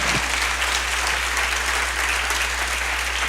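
A church congregation applauding during a family worship service, steady dense clapping that fills the room at even loudness throughout, close and without pauses.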